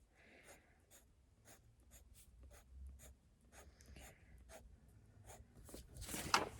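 A pen scratches across paper in short repeated strokes while a monster's mouth full of teeth is drawn, quiet and close, ending in a brief louder scribble.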